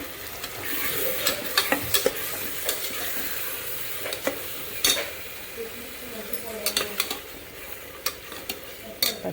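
Tomato rice with curd and chili powder being stirred and sautéed in a pan, a steady close sizzle of frying broken by frequent scraping spoon strokes and light clinks against the pan.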